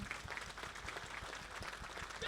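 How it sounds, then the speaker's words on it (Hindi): An audience at a political rally in Telangana claps steadily to welcome a speaker, a dense, even applause with fairly regular beats and faint voices mixed in. "एक बार ताली बजा के स्वागत कीजिए"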